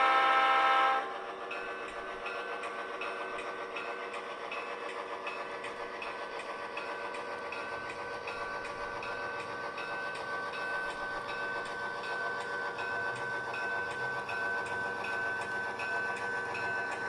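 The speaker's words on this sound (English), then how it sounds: "Like I said, really enjoying the GP7u. Very nice, deep, throaty engine sound on it." A GP7u model locomotive's deep, throaty engine drones steadily while switching cars during a model railroad operating session, with a brief louder tone at the start and then a continuous hum throughout.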